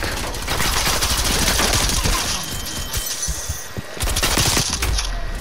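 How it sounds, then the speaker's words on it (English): Video game shootout with dense, continuous gunfire, rapid overlapping shots and bursts that run loud and close almost without pause. "I'm getting shot at by the whole team."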